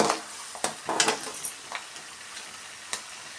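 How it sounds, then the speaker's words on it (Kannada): Cashews frying in hot oil for Melukote Iyengar-style puliyogare, with soft crackling and a few sharp stirring clinks against the pan, fairly quiet and close. "ನೋಡಿ ಈಗ ನಾವು ಗೋಡಂಬಿ ಸೇರಿಸ್ಕೊಳ್ಳೋಣ ಗೋಡಂಬಿನ ಕ್ರಿಸ್ಪಿಯಾಗಿ ಫ್ರೈ ಮಾಡ್ಕೊಳ್ಳೋಣ"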